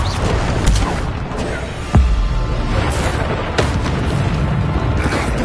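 Bombarda explosion spell cast in the video game Hogwarts Legacy, producing dense game combat noise with a sharp deep boom near two seconds and other bursts and impacts layered over busy battle sound.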